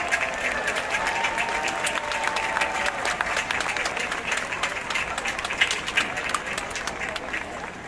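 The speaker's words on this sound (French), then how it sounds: "je vous invite à vous lever afin que nous puissions vous applaudir" Audience applause at the Montreal fireworks competition awards ceremony as the jury stands, a dense sustained round of clapping from a large crowd with faint voices and murmuring mixed in.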